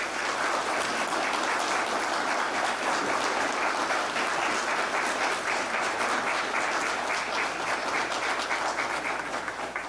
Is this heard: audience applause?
yes